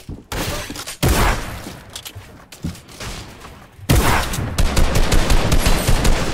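Drum gun firing in Fortnite, long loud stretches of rapid automatic fire with a short pause between bursts, close up, with no talking.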